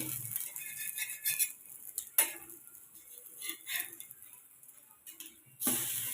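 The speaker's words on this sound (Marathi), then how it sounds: "एका साईडनं छान भाजला गेला त्यामुळे आता दुस असं परतून पलटून पलटी मारते मी" Egg-coated bread frying in a pan and flipped with a spatula, soft sizzling under scattered metallic scrapes and clinks against the pan, with a louder clatter near the end.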